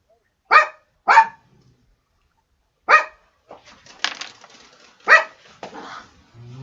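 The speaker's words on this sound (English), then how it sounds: "no barking." A dog barks sharply several times with pauses between, nearby, along with some softer rustling noises.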